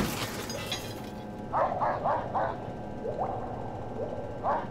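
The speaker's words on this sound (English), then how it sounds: "wasn't that the sound of like normal dogs?" Dogs in the game Minecraft bark in a quick run of four yips, then two more isolated barks, with background music playing underneath.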